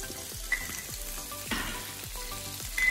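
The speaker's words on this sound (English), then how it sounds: "So now we're going to fry these for another 2 to 3 minutes on the next other side" Salmon fillets frying in a pan, a steady close sizzle with soft pops and the occasional scrape or tap of a utensil, no talking.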